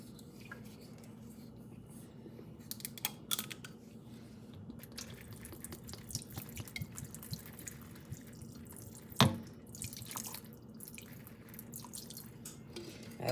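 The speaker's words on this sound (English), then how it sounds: "And then I pour a little water in it." Water poured into a cooking pot that already holds vinegar, in a home kitchen: a faint, steady trickle with scattered drips and a single sharp clink of the pot partway through, heard close and quietly.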